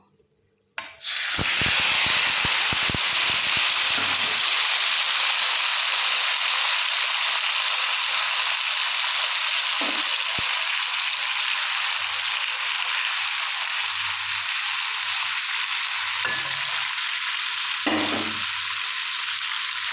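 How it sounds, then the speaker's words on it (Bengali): Katla fish pieces drop into hot mustard oil with a sudden loud sizzle that holds as a strong, continuous close-up frying hiss for the rest of the span, broken by occasional soft clinks and stirring sounds. "এবার আমি মাছটাকে এর মধ্যে দিয়ে দেবো।"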